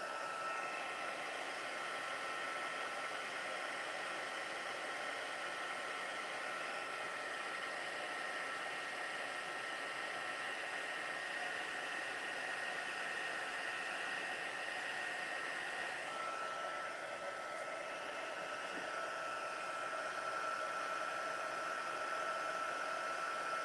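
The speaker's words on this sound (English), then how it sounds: "it takes a little minute for the heat tool to heat up, and then you'll see it start to puff." Heat tool blowing hot air onto puff paint on a Christmas craft, a steady, fairly loud whooshing fan roar with a constant whine that holds unbroken throughout, with no talking.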